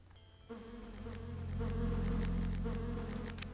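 Bees buzz in the fantasy game Land of Lore, a loud droning hum that swells and holds steady, close and continuous with no talk over it.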